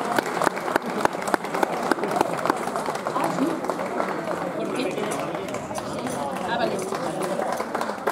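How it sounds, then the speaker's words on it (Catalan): An audience applauds throughout at a film presentation, with dense, steady clapping and some crowd chatter mixed in. "nosaltres vos aplaudim a vatros"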